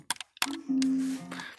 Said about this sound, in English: This is how you double click